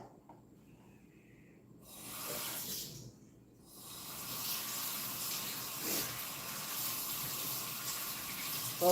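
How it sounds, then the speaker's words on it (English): Celery is rinsed under a running kitchen tap; after a quiet start, the water gushes in a steady hiss that continues to the end, with a brief pause partway through. "I'm gonna rinse this celery off."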